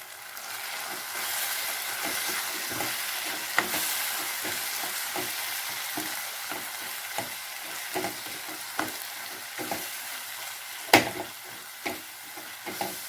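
Tomato masala for a Tamil-style tomato kurma sautés in a pan with salt and spices, a steady oily sizzle broken by repeated scraping stirs and occasional sharper clicks of the spoon against the pan, close and continuous with no talking.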